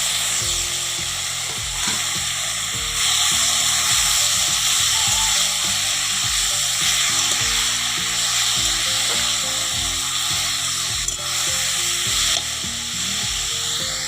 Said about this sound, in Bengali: এবার বাঁধাকপিটা দিয়ে দিলাম।